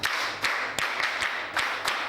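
Children at a primary school Children's Day event clap for the education commissioner, a moderately loud, steady patter of many small hands with a few sharper accented claps recurring through a couple of seconds.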